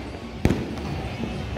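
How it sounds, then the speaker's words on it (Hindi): A single firework burst cracks sharply over a steady crowd hum at a night-time Independence Day celebration in Delhi, with faint voices in the background. "नाइट में पटाखों के साथ"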